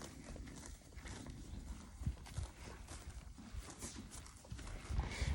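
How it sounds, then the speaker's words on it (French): Horses close by, hooves clip-clopping in an uneven stream of soft knocks over steady outdoor background noise, with a few stronger thuds near the end and no talk. "Je suis entouré de chevaux."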